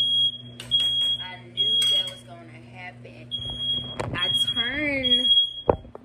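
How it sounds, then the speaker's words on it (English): A sensitive kitchen smoke alarm beeps in a steady high pitched tone while dinner, including cabbage in a pot, is cooking, sounding loud and close with pauses as someone talks over it. "My sensitive alarm is extra sensitive"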